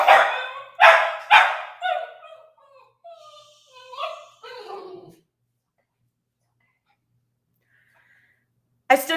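A pet dog gives several loud, close barks in quick succession at the start, then falls quiet after a few seconds, with one more sharp bark at the very end.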